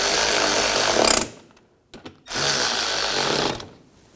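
Power tool driving and snugging screws on the front bumper of a 2006-2010 BMW 550i, two loud whirring bursts separated by a brief pause with a few clicks.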